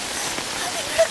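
Steady rain falls throughout, a continuous broadband hiss with even loudness and no distinct individual drops.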